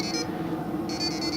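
A door alarm chiming an electronic melody, short high bright tones in a repeating pattern, fairly loud and close with no talking.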